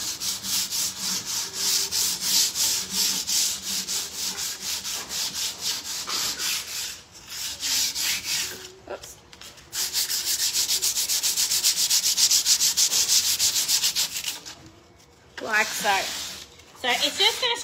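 A tool scratches and rubs excess finish off a damaged, chippy wooden bedroom furniture surface, giving a steady close scraping rasp with a brief pause and a few shorter strokes near the end.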